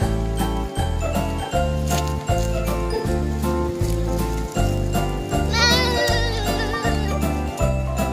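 Sheep bleating at a petting farm in Bogor, a wavering, repeated cry that rings out close and loud over a steady, pulsing musical backdrop, with a brief chirpy call near the end.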